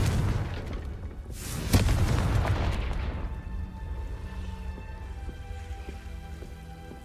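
The Confringo fire spell is cast in Hogwarts Legacy on PS4, releasing a sharp booming blast that rumbles and fades over a couple of seconds before a quieter ambient hiss and soft tones carry on.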